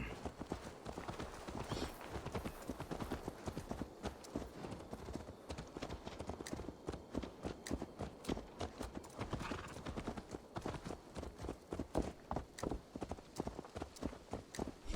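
Horse hooves clip-clopping in the video game Assassin's Creed Valhalla, a brisk, continuous patter of hoofbeats throughout, close and fairly loud, with faint speech now and then.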